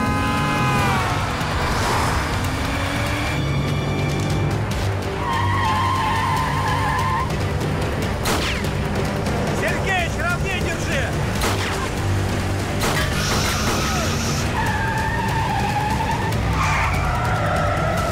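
A car brakes hard and skids, tires squealing repeatedly over a loud engine in a dramatic chase scene, with raised voices speaking over the noise.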